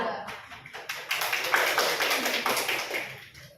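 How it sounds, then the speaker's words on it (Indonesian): Applause in a school classroom for a student group, a dense continuous patter of many hands clapping that swells, holds steady, then tapers off near the end, close and fairly loud with no talk. "Kita beri aplaus ke kelompok 2."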